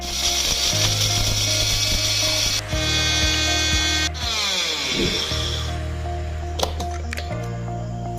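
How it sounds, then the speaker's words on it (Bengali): A kitchen mixer grinder runs continuously while grinding dry-roasted spices in its jar, a loud, steady mechanical whir with a rattling edge and a couple of brief pitch shifts as the load changes, with no one speaking over it. "ভাজা মশলাটাকে আমি একটু মিক্সিতে গুঁড়ো করে নেব"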